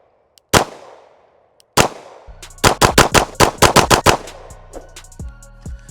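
Pistol fire at a shooting range emptying one magazine: two spaced shots, then a quick run of about a dozen sharp, loud reports before it stops.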